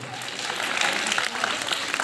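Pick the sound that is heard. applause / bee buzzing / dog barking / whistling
applause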